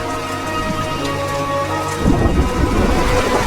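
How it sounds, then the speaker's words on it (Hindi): Thunder rumbles over steady heavy rain, loud and close, the downpour swelling into a denser roar partway through with no voices. "बाहर बहुत जोरों की बिजली भी कड़क रही है।"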